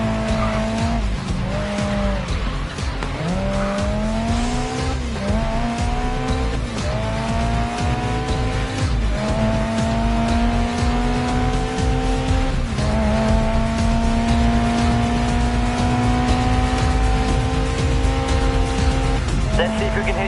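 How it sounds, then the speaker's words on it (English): A car in the Grid Legends racing video game slides through a corner under a touch of handbrake: a loud engine revs up and down through gear changes while tyres squeal and skid, and a voice speaks over it. "Try a corner with a touch of handbrake."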